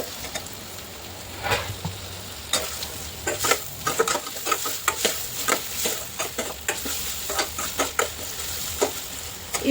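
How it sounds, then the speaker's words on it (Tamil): Vegetables sauté in a hot pan for spicy Yippee noodles, with a steady sizzle under repeated sharp scrapes and clinks of stirring, close and fairly loud, and no talking. "இப்போ இது வதங்கிட்டே இருக்கட்டும்."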